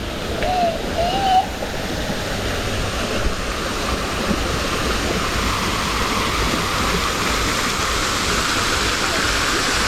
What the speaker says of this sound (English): A natural waterfall.